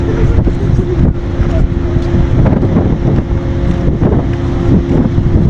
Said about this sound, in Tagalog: Mahangin, lakas ang hangin.